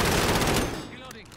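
Rapid automatic gunfire in the Call of Duty: Modern Warfare video game, a loud burst of shots that fades out over about a second.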